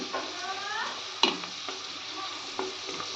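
Herbal hair-growth oil fries in a pan with a steady, close sizzle, broken by a few soft clinks and scrapes of stirring.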